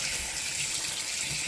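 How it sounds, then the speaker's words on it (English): A running tap rinses egg yolk off fingers, giving a steady, soft gush of water splashing into a sink, heard alone and unbroken. "I had to rinse the yolk out of my fingers"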